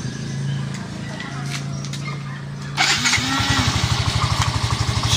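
A motorcycle engine cranks briefly and catches on the first try, then settles into a loud, close, steady idle with a rapid even pulse, after someone talks over a low hum.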